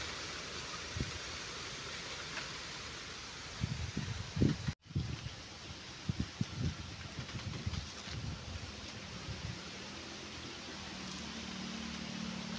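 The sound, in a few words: strong wind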